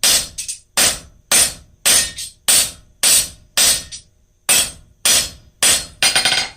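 Hard, ringing hammer blows strike a cold metal taper on an anvil one after another at a steady pace, about ten sharp impacts with short gaps between them.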